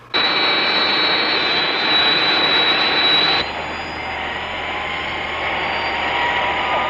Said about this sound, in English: There must be an aircraft in the vicinity.